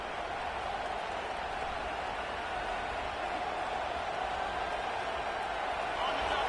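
Stadium crowd noise in College Football 26 as a Texas Tech offense faces 1st and goal at Texas, a loud, constant roar that builds slightly toward the end.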